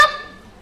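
A single short goose-like honk rings out sharply, then decays into a faint tail, alone with no talk.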